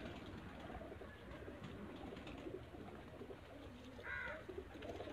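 Domestic pigeons coo softly in the distance against a low, steady background hum, with one clearer coo near the end.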